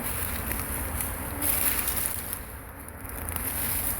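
A dense, steady hum of many honey bees swarming around a beehive being set up outdoors, continuous and fairly close, with no voices over it.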